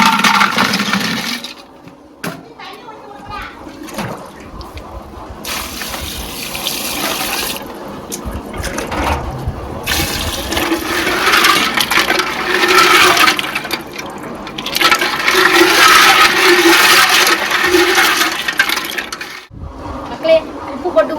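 Water gushes and pours over freshly caught village snails to soak them, a loud, steady splashing flow with brief pauses and shifting intensity, heard close up.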